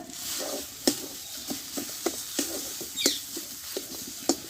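Sim bhorta, a mashed bean dish, fries in a pan under a low continuous hiss while a spatula scrapes and taps it in an uneven rhythm of about a dozen close, crisp strokes.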